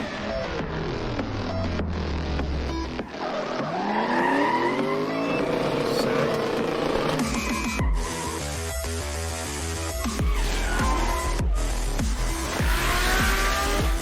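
Cars drift with tire squeal that rises and falls under loud engine noise and music, with sharp cuts between shots.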